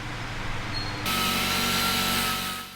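Sanding and filing the edges of a metal overlay panel for an aircraft engine monitor installation, a close, steady abrasive rasp that grows louder after about a second and runs continuously before easing off.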